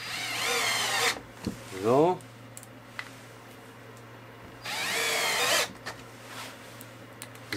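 A power drill drives screws into lightly pre-drilled holes in a wooden dust-cover box in a workshop, with two short, loud whirring bursts and a rising whine between them, followed by a clatter and a brief spoken word.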